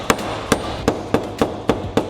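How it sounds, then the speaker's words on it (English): A hammer taps a dent out of the tailgate of a 2019 Honda CR-V with eight sharp metal strikes, evenly spaced about a quarter second apart, close and clear with no talk. "those hammer strikes loosen the crown up, and that's gonna let this metal flow again"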